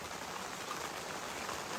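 Steady rain falls at a campsite with a tent pitched, a soft even hiss of drops with no pauses or other sounds.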